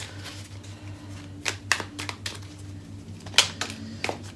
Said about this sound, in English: I want to pull some Starseed cards